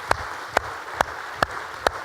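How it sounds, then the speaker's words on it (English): Audience applause at a 2015 annual conference talk about building public consensus against CAFOs: a handful of sharp hand claps at a steady, slow rhythm, moderately close, over a faint room hum. "let's give him applause"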